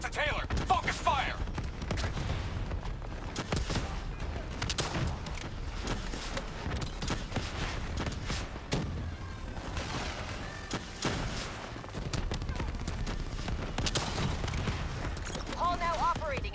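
Sustained video game gunfire during a boss fight, dense rapid shots and thuds layered over a continuous battle din for the whole stretch, loud and close, with characters speaking over the combat.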